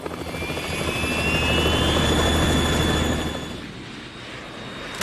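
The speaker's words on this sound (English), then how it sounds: "We're in trouble. It's the Harrier." Harrier jet from the Metal Gear Solid 2 video game: a loud, sustained engine roar with a high whine that swells through the middle and then eases slightly, with no voices.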